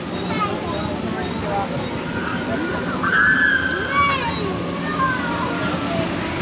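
Water sloshing and splashing around a moving theme park ride boat, a continuous wash with a low rumble, while people talk and call out.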